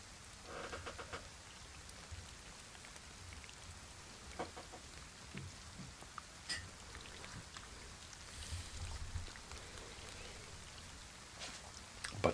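Steady rainfall in DayZ on Deer Isle, a soft continuous patter of drops on surfaces with occasional sharper taps, faint and alone throughout.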